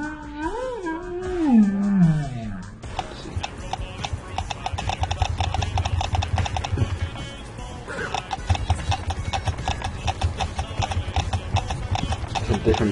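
Hooves clip-clop steadily in the Slender Horse video game after a warbling, sliding tone fades out, a rapid, regular clatter of horse steps continuing over a low background hum.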